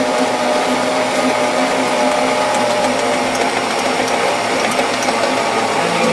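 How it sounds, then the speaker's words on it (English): A mixer motor churns a thick Retr0bright mixture of xanthan gum and glycerin, a loud, dense, continuous whirring grind with rapid clicking texture, steady throughout and heard alone without talk. "That motor's having some issues now."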